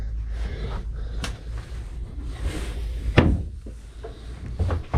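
A bedroom door in a tiny house with a loft swings shut, ending in a solid wooden thud at mid-distance, with softer knocks and rattles around it.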